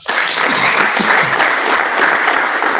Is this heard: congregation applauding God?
yes